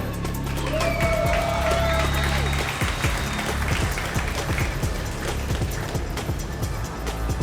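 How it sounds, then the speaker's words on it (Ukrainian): A fight crowd applauds and cheers for a bare-knuckle boxer being introduced at a promotion event, steady loud clapping with shouts and whistles throughout. "Оплески колі!"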